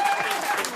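Brief burst of studio audience clapping on a French radio comedy show, mixed with a voice and crowd noise, short and fairly loud.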